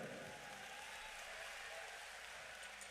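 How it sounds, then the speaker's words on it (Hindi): An audience at a devotional gathering with a religious leader bursts into sustained applause, a dense, even roar of clapping filling the whole moment. "तो इन पिता के लिए एक जोरदार ताली बजाइए।"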